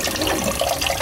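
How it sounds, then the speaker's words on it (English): A spray nozzle sends cold water onto shredded greens in a sink, producing a continuous close hissing spray that fills the whole short moment. "you want to go ahead and spray a little bit of cold water on them."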